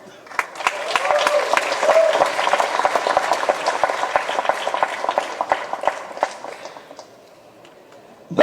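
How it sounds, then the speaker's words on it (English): Audience applause at a launch event, building quickly into a lively roomful of clapping that holds for several seconds, thins out near the end, and then gives way to a voice. "That's an applause that's coming to him decades later."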